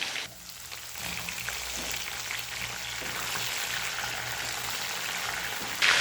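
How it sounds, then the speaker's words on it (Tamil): Chopped onion, green chilies and curry leaves sizzle steadily in a hot oiled pan for veg rava kichadi, with a close, even crackle and a short burst of stirring near the end. "பெரிய வெங்காயம் சேர்த்த உடனே 2 பச்சை மிளகா, 1 கொத்து கருவேப்பிலை இதில் ஆட் பண்ணிக்கலாம்"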